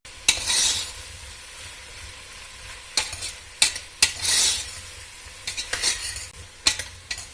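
Mushrooms for pulao stirred in a frying pan with a spoon, sizzling softly between scraping strokes and sharp taps against the pan, irregular and close with no voices.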